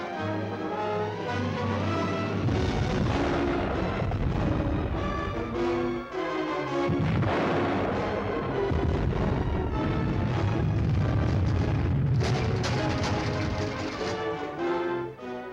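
Torpedo explosions striking a Japanese aircraft carrier in the 1958 WWII submarine film Submarine Seahawk: a continuous loud, rumbling barrage of blasts and roaring destruction blended with a dramatic orchestral score.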